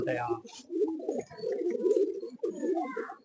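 A pigeon at a loft coos in soft, rolling low calls close by, with other birds murmuring around it.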